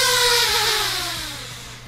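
A DJI Ryze Tello mini drone buzzes loudly and close as it lands indoors, its high whirring pitch sliding steadily downward as the rotors slow, fading slightly by the end.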